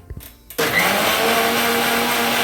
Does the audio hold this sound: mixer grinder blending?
yes